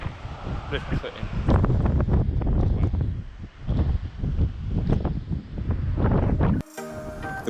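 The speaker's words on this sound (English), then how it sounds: "The wind was so strong up here the microphone didn't work" Strong gusts on a clifftop batter the microphone in loud, uneven rumbling buffets that keep rising and dropping, with a voice faintly underneath, before music cuts in near the end.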